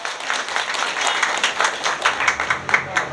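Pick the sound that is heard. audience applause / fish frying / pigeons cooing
audience applause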